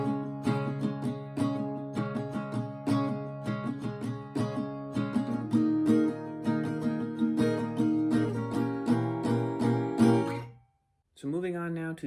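An acoustic guitar plays the second half of the pre-chorus of a song, close and clear, with a rhythmic strummed pattern for about ten seconds, then a brief cut to silence and a short new strum.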